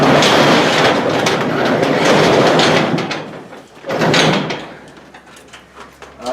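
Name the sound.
garage door being opened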